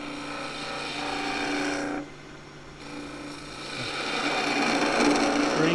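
A skew chisel cuts a wooden skittle spinning on a lathe, giving a steady rasping, scraping drone with a brief dip as the tool lifts off, then resumes and builds slightly louder.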